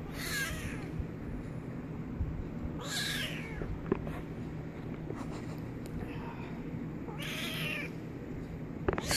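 A kitten being held gives several high, raspy meows at intervals over a steady low background hum.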